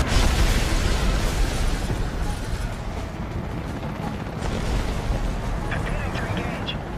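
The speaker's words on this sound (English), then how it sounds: "the one you're seeing me use right now is the Hydra rocket" Loud Hydra rocket launches from an Apache helicopter in a video game and explosions boom in quick succession, a dense roaring barrage that eases slightly before more bursts and crackles.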